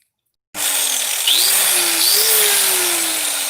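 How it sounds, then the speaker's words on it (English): A power grinder works on a budget DIY hot rod, starting abruptly and holding a loud, continuous harsh whine with slight pitch shifts as it bites into the metal. "Time to grind."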